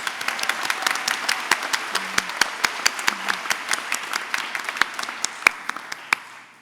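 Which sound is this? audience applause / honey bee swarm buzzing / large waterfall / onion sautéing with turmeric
audience applause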